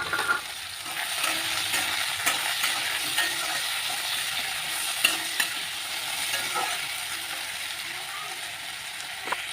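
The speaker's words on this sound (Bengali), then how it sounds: "এখন একটু আলু ভাজা করছি" Potatoes sizzle steadily in a home kitchen pan while being stirred, a continuous close hiss broken by occasional scraping clicks of the utensil.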